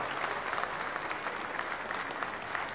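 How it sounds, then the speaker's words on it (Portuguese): An audience at an Arab dinner event applauds the musicians of a military battalion band. Sustained clapping from a moderately distant crowd holds steady throughout, fairly soft overall, with no talk. "aplauso a estes músicos do nosso batalhão."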